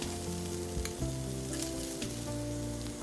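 Meatballs sizzling in a skillet as they cook on their underside, a soft steady crackling fry close by, with a low hum running underneath and no talking.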